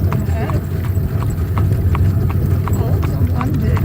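Horse hooves clip-clop in a steady rhythm as a horse pulls a Mennonite buggy down the road, close and clear, while people talk over the sound.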